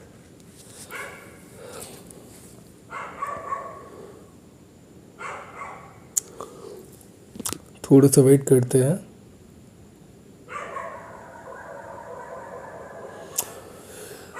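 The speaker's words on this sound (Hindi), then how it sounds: "कुत्ते भौंक रहे रात के टाइम में" Dogs bark in a short burst somewhere in the distance at night, with someone talking quietly before and after.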